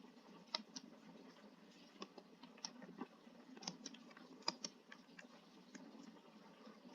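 Faint, irregular key clicks from a computer keyboard as array elements are typed in, scattered soft taps over a low steady hum, with no talking.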